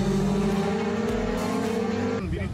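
Motorcycles roaring past during a motorcycle festival tour in Tunceli, a loud sustained engine drone with shifting pitch that drops away near the end as a bike passes.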